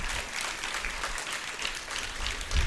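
Applause from parents and students at a school stage event, a steady wash of clapping heard at a moderate distance and fairly quiet, continuing throughout.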